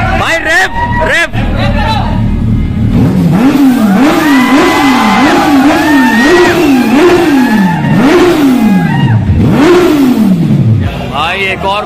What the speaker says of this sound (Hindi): ये आ गई हायाबूसा भाई, जबरदस्त भाई।